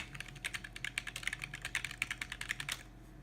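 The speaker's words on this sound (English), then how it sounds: "This is a membrane keyboard." Rapid typing on a Razer membrane keyboard, a steady run of clicky, fairly loud keystrokes close up with no talk, ending abruptly near the end.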